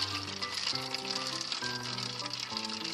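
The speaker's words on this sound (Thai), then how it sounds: "ตอนนี้ก็ใส่น้ำเย็นนะเพื่อนๆ" Cold water is poured while growing sunflower sprouts without soil, a continuous splashing trickle with shifting tones, close and steady throughout.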